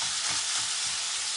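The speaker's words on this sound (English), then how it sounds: "Hope you can hear me over the sizzle here." Onions sizzle and fry in a hot skillet with a bright, steady crackling hiss and faint stirring scrapes underneath, close and continuous.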